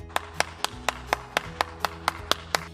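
A steady run of about eleven sharp hand claps at an even rhythm during an online children's church service, close and clear, with a low hum underneath.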